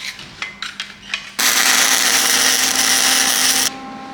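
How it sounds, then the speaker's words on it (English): A welder joins a homemade trailing arm for a Chevrolet C10, made with simple tools. A few sharp taps come first, then a steady, loud crackling hiss holds for about two seconds before cutting off. "Let me get this thing welded together."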